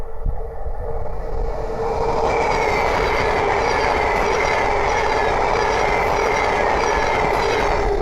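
Thameslink Class 700 electric train passing on the East Coast Main Line near Great Wymondley, a loud, steady rushing roar of wheels on rail with faint clickety-clack, sustained throughout as the carriages stream past close by.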